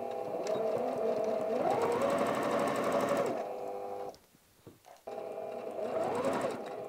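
A sewing machine stitches fabric for a tablet cover, running steadily and loudly up close, stopping for about a second, then starting up again.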